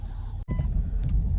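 A car with a check engine light and a recently replaced ignition coil rumbles close by as it backs out, a low steady engine drone broken by a brief dropout before resuming for under a second and a half.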